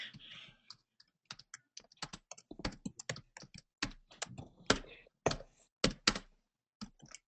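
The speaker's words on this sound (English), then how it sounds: "Think some people might be typing into the chat." Rapid, uneven keystrokes on a computer keyboard, close and fairly crisp, clustering into short bursts with brief pauses over about seven seconds, with no talking.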